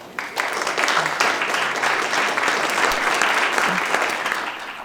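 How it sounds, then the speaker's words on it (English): Audience applause at a 2020 community outlook presentation in Oshkosh, a steady wash of many hands clapping that fills the whole stretch at even loudness, with no talking over it. "Let's have a round of applause for Mark."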